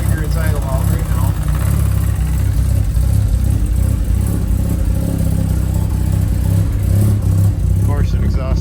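A Mazda RX8 with a bridge-ported 13B rotary engine and an exhaust leak idles roughly and revs up close, a loud choppy low-pitched drone that surges throughout.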